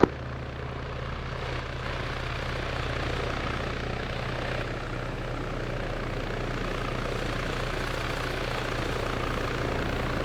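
Helicopter in a video game, a steady low rotor thrum and engine drone running close and unbroken from start to finish, with no talk over it.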